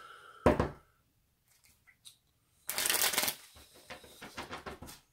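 A deck of playing cards being shuffled at a tabletop board game session: a sharp riffle burst, a few soft taps and knocks, then a longer riffle and bridge followed by scattered card slaps, close and alone.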